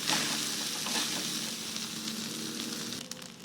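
Leftover rice frying in a pan, a loud continuous sizzle with light crackling that holds steady throughout, up close and without any talking.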